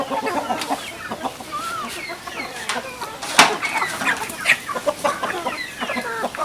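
Chickens in a coop cluck continuously and overlap one another in busy, close, fairly loud chatter, with one sharper squawk rising above the rest.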